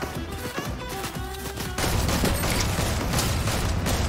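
Gunfire from a thermal-scoped rifle in the video game Fortnite, loud sustained battle noise that thickens into a dense, continuous barrage partway through, with music-like tones underneath at the start.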